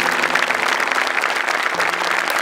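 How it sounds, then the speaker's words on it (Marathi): Studio audience at a Maharashtrachi HasyaJatra felicitation breaks into loud, sustained applause, a thick unbroken patter of many hands. "जोरदार टाळ्या."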